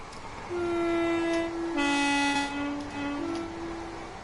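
Train horn in Train Sim World 2 on the East Coastway line, a long sustained two-tone blast held for several seconds over low rail rumble, loud and close, no speech.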